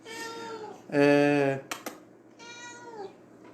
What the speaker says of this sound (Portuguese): A gatinha está querendo participar mesmo.